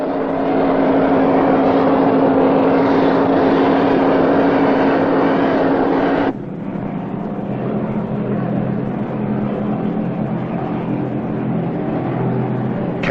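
Racing powerboats, small Class 3 boats, roar across Port Phillip Bay at a world championship event, a loud continuous engine drone that drops in pitch and level partway through, with faint talk underneath.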